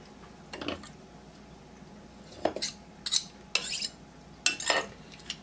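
Two or three garlic cloves squeezed in a Pampered Chef garlic press in a home kitchen: a handful of short metallic clicks and squeaky crunches, close up and spaced a second or so apart, with no talking.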